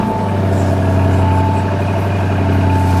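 A 2022 Lamborghini Urus engine running loud and close after starting, a steady deep rumble with a throbbing idle and no voices over it.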